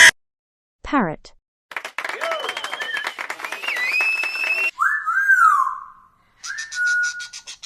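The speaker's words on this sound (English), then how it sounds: "Parrot." A parrot gives a run of whistles, squawks and chattering calls, varied in pitch and broken by short pauses, close and fairly loud with no talking.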